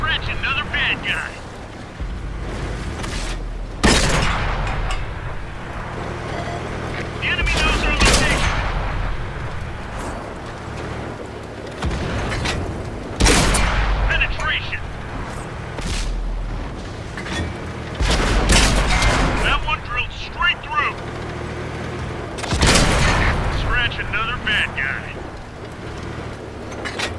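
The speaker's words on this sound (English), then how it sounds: "Artillery fire. Take cover." Artillery fire and shell explosions in the World of Tanks video game, with a Tier 5 Pz.Kpfw. V/IV tank in battle: repeated loud booming blasts every few seconds, mixed with game noise and a voice talking.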